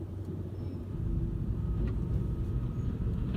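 A car moving off from the curb on a road, a steady low engine rumble that swells slightly as it pulls away, close and continuous with no talk.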